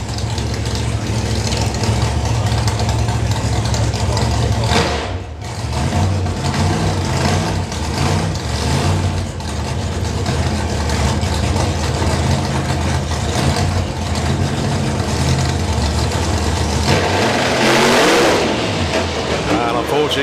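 A Pro Mod Camaro drag car launches at a drag racing finals, its engine roaring loud and sustained for about twenty seconds, with a brief dip early on while the rear tyres lose traction.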